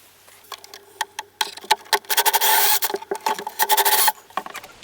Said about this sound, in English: Okay, so we got our first two holes drilled.